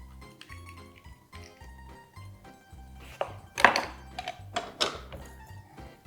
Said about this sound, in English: In your big tin, crack your egg and do your egg white